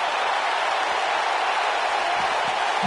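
Steady crowd roar from a virtual wrestling arena in WWE 2K19 at an Extreme Rules event, a dense continuous wash of cheering that holds even throughout, with a few faint low thumps underneath.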